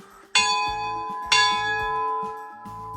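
A 150-year-old church bell in Crete rings out with two loud, resonant strikes about a second apart, each leaving a long shimmering decay, with softer clanks and knocks between.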